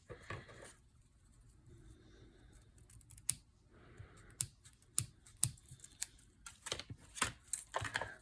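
Quiet, close snips of scissors trimming ribbon tails on a handmade heat-embossed Christmas card, a scattered series of sharp clicks that grows busier toward the end.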